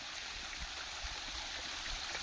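Irrigation water flows across a village farm field, a faint, steady rushing trickle with soft low gurgles underneath.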